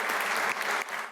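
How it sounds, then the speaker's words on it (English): A crowd in a state senate chamber applauds a newly seated senator, steady close clapping from many hands that fades slightly near the end, with no talk over it. "Let's give him a big round of applause."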